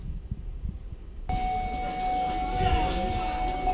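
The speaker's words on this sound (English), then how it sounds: "now that the bell's sounded" A school bell starts abruptly partway through and rings as a steady sustained tone over a noisy room, after a stretch of low rumbling background.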